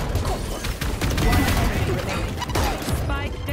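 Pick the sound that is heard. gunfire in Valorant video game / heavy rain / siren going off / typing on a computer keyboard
gunfire in Valorant video game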